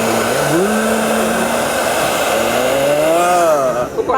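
A hair dryer blows loudly and steadily up close, its motor tone shifting in pitch as it runs, with a brief drop near the end.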